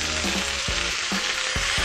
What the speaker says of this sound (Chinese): 这个时候把啤酒放进来